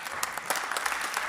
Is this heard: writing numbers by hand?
no